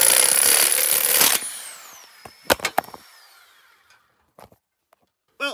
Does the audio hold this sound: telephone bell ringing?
no